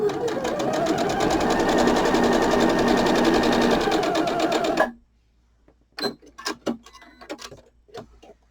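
A sewing machine stitches through quilt fabric in one rapid, rhythmic run of close, clattering mechanical ticks that stops abruptly, leaving a few scattered clicks and small handling noises.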